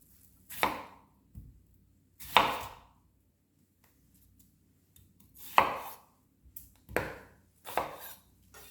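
A knife chopping an onion on a cutting board, with sparse, separate thuds arriving at irregular intervals, crisp and close against near silence between cuts.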